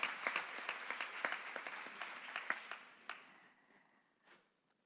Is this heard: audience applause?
yes